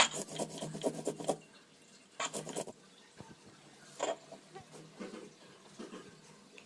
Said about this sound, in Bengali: এরপর ডালটাকে বেটে নেব।